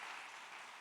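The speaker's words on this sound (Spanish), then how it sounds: "usted puede darle un poco más de aplauso al Señor" Youth church congregation applauding during a worship gathering, a brief, faint, even wash of many hands clapping with no other sound on top.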